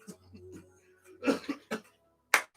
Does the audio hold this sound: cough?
yes